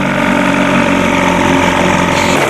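A 1976 Evinrude 25 hp outboard motor runs with a spun propeller hub, giving a loud, steady, close engine drone that continues without a break.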